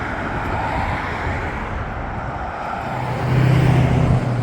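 Road traffic streams steadily past on a street in Albuquerque, a continuous broad rumble of cars with a louder, closer vehicle swelling near the end and no voices.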